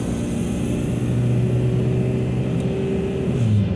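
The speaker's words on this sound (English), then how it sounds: "second gear I could get on the highway and do almost 80, and now it's only taken me up to maybe 40, depending on how high I want to rev it" A Dakota truck with a swapped TDI diesel engine revs in second gear in deep cold, a steady close droning engine note that rises in pitch toward the end, with no voices.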